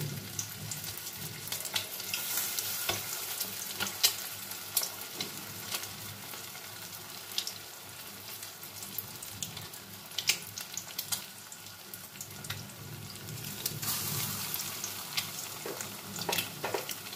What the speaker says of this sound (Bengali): আমি ব্যাচে ব্যাচে ডিমগুলো ভেজে নেব।